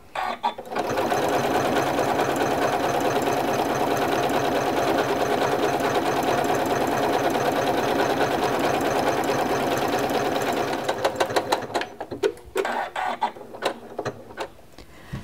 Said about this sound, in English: So now I'm going to put the next row of stitching in.